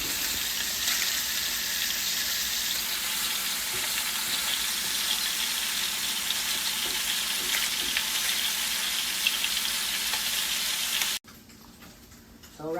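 Spam slices frying in a pan give a steady, dense sizzle and crackle for about eleven seconds, close and fairly loud, then cut abruptly to a quiet room with faint clatter.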